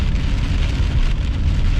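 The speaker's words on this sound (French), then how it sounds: "Donc en ce moment, c'est pas mal de la pluie plus forte" Heavy rain pours steadily during a thunderstorm near Longueuil, a dense, continuous hiss of drops drumming on surfaces with a low rumbling wash underneath, loud and close, with no voices.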